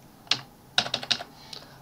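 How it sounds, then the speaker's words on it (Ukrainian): Typing on a computer keyboard while entering a value in SketchUp, ending with the Enter key: a few crisp, close clicks in an uneven cluster, with no talking. "Набираю з клавіатури та нажимаю клавішу Enter."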